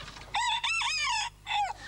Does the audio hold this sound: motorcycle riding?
no